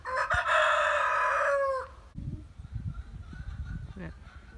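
A rooster lets out one loud, close, drawn-out crow lasting nearly two seconds, followed by low murmuring talk and small background sounds.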